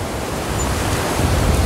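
Surf breaks on the Atlantic at Praia das Campas beach in Tamandaré, a steady, dense roar of waves close by that swells slightly toward the end, with no talking.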